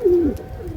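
A single loud, throaty coo from a pure-bred pigeon held for sale in Hooghly, a drawn-out descending roll close up, followed by a quieter trailing murmur.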